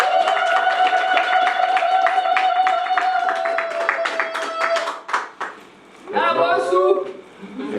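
Applause and cheering at a civil wedding ceremony, a dense burst of clapping from the room with a sustained tone at first, fading into scattered claps and then a voice calling out.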